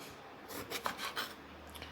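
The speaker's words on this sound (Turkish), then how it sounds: "Şöyle şurasını da alalım dikdörtgen dikdörtgen kesiyoruz patlıcanlarımızı." Knife slicing wilted eggplants into rectangles on a board, a few soft rasping cuts close by, quiet and alone without talk.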